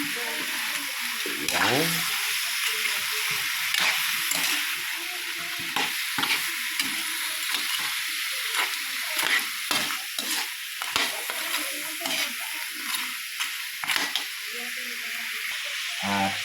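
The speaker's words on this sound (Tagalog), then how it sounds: "Halo na rin natin yung mais." Corn kernels are stirred into a hot, sizzling pan: a constant loud frying hiss with repeated scraping strokes of the spoon, and a voice speaks briefly.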